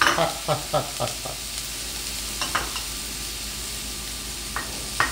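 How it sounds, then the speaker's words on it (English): Garlic frying in hot oil while making fried chickpeas (channa) snack, a steady close sizzle with a few sharp crackles and stirring clicks spaced through the first seconds, settling into a constant hiss. "so I'm gonna fry up the garlic"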